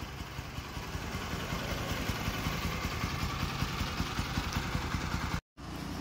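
A Bajaj Pulsar NS200 motorcycle engine idles steadily up close, a continuous even rumble with a fast pulsing clatter that runs unbroken for about five seconds before a brief cut and resumes.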